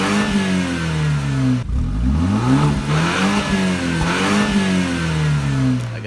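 BMW sports sedan engine on stock exhaust revs hard, with repeated rising and falling blips over a steady idle, loud and close, with no talking.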